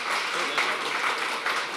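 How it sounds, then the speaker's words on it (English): Steady applause from a community pub-talk audience, dense continuous clapping sustained throughout at moderate loudness with no talk over it. "How about a round of applause for Kyle and Christian?"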